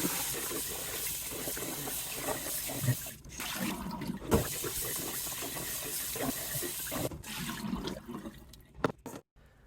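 Tap water runs steadily over sushi rice being rinsed in a pot for pressure-cooker sushi rice, a continuous hissing splash broken by a few brief pauses and clunks, fading out near the end.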